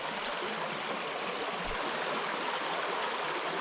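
A small river narrowing as it flows through wild trout water, its steady broadband rush of running water continuous and fairly close, with no talk over it.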